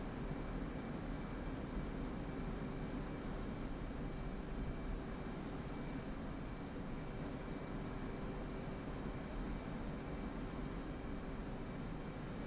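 A P-51 piston engine drones in the DCS flight simulator, a steady, unbroken roar holding constant throughout at a low, even level with no other sounds.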